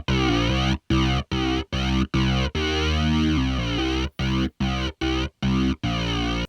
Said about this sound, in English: It's actually not a bass guitar, it's a Moog bass.